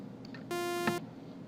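A raw synthesizer init patch sounds a single flat, buzzy tone for about half a second, starting and stopping abruptly with no shaping, over faint room noise.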